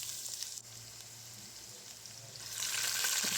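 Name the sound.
chopped ginger frying in oil with mustard seeds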